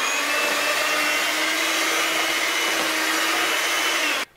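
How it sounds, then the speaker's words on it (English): An electric mixer beats green-tinted dinosaur cupcake batter in a bowl, a loud steady motor whir that holds for about four seconds and then cuts off abruptly. "We're going to turn the electric mixer on at the wall. And we're going to start mixing."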